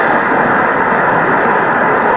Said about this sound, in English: Throttle up, get ready to go, and push space to go to space.